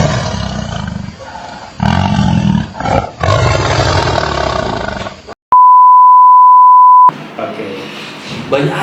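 A tiger roars loudly in a protected forest, a rough, sustained growl lasting several seconds, then cut off by a steady electronic beep before more noisy rumbling returns.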